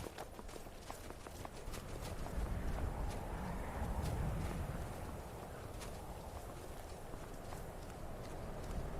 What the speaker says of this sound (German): Das Pferd ist schon recht nervös da.